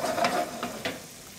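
Lemon juice hitting a hot pan while braising short ribs gives a brief, moderately loud sizzle. Spoon stirring scrapes through it in two or three short bursts, then the sound settles to a softer hiss.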